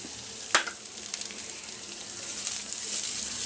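Onion drops into a pan of frying ginger and garlic with a brief thud, and a bright, close sizzle then swells and grows steadily louder.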